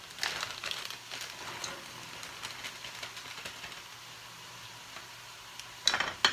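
Onion and celery being stirred into a chili pot, with soft scraping and sizzling throughout and a louder clatter near the end.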